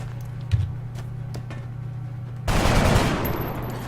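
Soldiers fire shots in XCOM: Enemy Unknown. A low, steady hum carries a few faint taps, then a sudden loud burst of automatic gunfire erupts and rolls on to the end.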